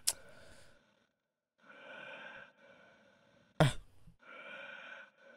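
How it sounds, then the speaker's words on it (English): A creature in the horror video game Pylons breathes in long, heavy, drawn-out sighs, two extended breaths separated by pauses, with sharp gasping onsets, close and fairly quiet. "So it was you who was breathing?"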